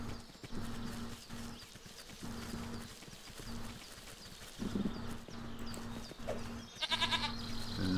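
A goat in the Force of Nature video game, with soft hoof clopping and brief bleats, plus a few game interface chimes near the end, all fairly faint.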